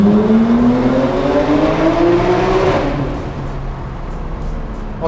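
A Lamborghini Huracán Performante accelerating through a tunnel: a loud, close engine roar climbs in pitch with reverberation, then eases into a lower rumble with no talking.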